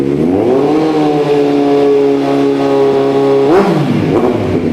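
Loud, close engine of a 2018 Kawasaki Z900 ABS with an aftermarket exhaust holds a steady, smooth high rev, then drops and blips sharply near the end, with no voices.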